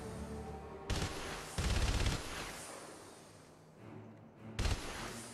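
Bursts of gunfire aimed at a tank in Enslaved: Odyssey to the West, several loud rapid volleys separated by short pauses over a steady game background.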